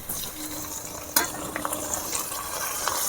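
Garlic and ginger paste fries with onions in a wok, giving a steady soft sizzle broken by a sharp utensil knock and a few lighter stirring scrapes.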